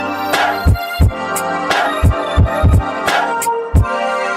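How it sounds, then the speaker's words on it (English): A programmed drum beat runs under heavy compression, its punchy kicks and snares clamping the level so the sustained background swells and ducks in a pumping, whooshing rhythm, loud and alone. "Which is obviously too much compression"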